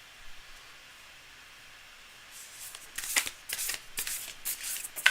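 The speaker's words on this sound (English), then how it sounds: "Cards are pretty nicely shuffled." A deck of tarot cards being shuffled by hand after a quiet start, with crisp riffling flutters and snaps bunched into the last two seconds, close and fairly soft, without speech.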